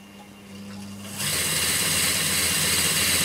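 A small printer ink pump powered through a variac starts with a soft hum, then jumps at about a second in to a loud, steady high-pitched motor whine that holds to the end.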